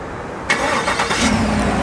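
A 2018 Chevrolet Silverado High Country's 6.2-liter V8 remote-starts: a sudden crank and catch halfway through, then a steady, fairly quiet idle with brief rising surges, close by and alone.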